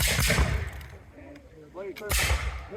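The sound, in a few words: War of 1812 re-enactment gunfire volley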